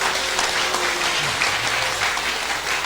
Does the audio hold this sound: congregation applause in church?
yes